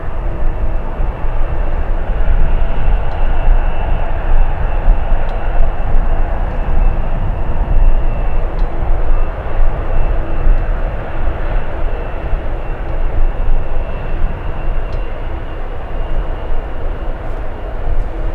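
Alaska Airlines jet from Las Vegas at San Francisco International Airport, a loud steady broadband engine roar with a constant hum that persists unbroken throughout.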